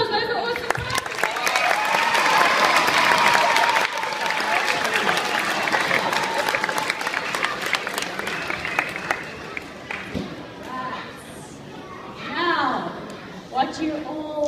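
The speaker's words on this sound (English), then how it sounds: "can I have a round of applause?" A school audience at a fundraiser claps and cheers loudly, with shouts and whoops over the applause that fades toward the end, mixed with voices talking.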